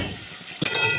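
A metal lid set onto a cooking pot, a single quick clink following a low simmering background.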